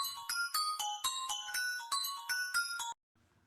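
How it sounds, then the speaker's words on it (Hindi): A mobile phone rings late at night with a bright electronic tune of repeated melodic beeps in a quick, regular pattern for about three seconds, then stops abruptly. "ये इतनी रात को इसके फोन पे कौन कॉल कर रहा है?"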